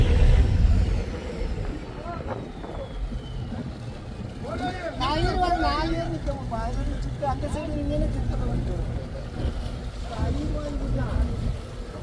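A cargo boat's engine drones steadily at sea while the boat sits run aground, with wind buffeting the microphone and people talking over the motor noise.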